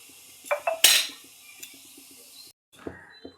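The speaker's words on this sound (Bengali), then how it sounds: "এবার সয়াবিনটা আমি তুলে নিচ্ছি।" Fried soybean chunks scraped and lifted out of a pan, with several close metallic clinks of a spatula or ladle against the cookware, a short pause, then a couple more knocks.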